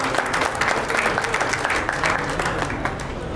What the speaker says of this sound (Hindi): ये बात करते ही जोरदार तालियां होनी चाहिए।